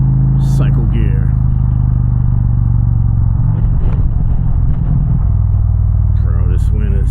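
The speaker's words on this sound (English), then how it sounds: "this wind sucks." Wind roars steadily while riding an Indian Challenger motorcycle with a Rinehart exhaust, a constant loud low rumble and buffeting throughout, with someone talking over it.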